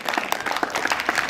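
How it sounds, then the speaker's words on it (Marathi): A school hall crowd clapping for teachers at a Teachers' Day event, a short burst of dense, fairly loud applause from many hands. "यासाठी आपण जोरदार टाळ्या वाजवू जरा थोडसे"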